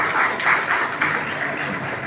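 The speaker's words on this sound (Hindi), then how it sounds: "मैं तो तालियों के लिए बार बार कहता रहूंगा" Audience applause at a teacher-honouring ceremony, a short burst of many hands clapping in a hall, fairly loud and continuous, with faint talk underneath.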